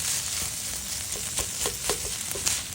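A burger mixture frying in a hot pan gives a steady hissing sizzle while a utensil stirs it, with soft repeated scraping strokes close by.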